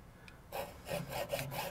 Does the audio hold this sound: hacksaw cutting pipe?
yes